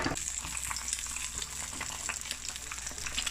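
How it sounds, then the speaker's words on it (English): Eggs seasoned with black pepper and salt fry in a pan for a Jamaican breakfast sandwich, a steady close crackling sizzle with dense spitting pops and no talk. "And you fry your eggs to how you want it"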